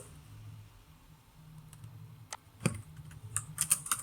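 Computer keyboard typing while JavaScript code is commented, quiet and close, with soft irregular keystrokes that build into a quicker cluster of sharper clicks near the end, and no talking.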